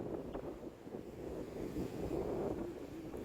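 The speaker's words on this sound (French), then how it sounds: "Regardez-moi ces vagues." Continuous rushing surf and wind blowing across the microphone on the coast of Guadeloupe, a steady roar of waves with no talking.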